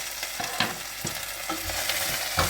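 Onions softening in a pan over medium heat, a dense steady sizzle with soft intermittent stirring thumps, close and continuous, and no one speaking.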